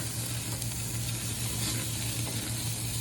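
Beef burgers sizzle on the front burner of a grill, a steady dense crackling hiss that stays loud and close with no talking.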